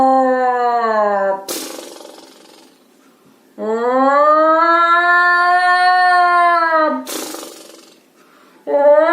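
A voice imitates a lion's loud snoring, with long drawn-out growling snore tones separated by sharp rasping exhales, several cycles, close and loud.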